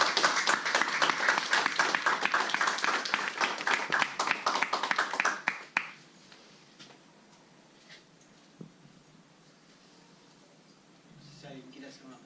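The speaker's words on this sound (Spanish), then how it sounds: "Un aplauso." Brief round of audience clapping after a university lecture, loud and dense for about five seconds before cutting off abruptly, leaving a quiet room with faint stray noises.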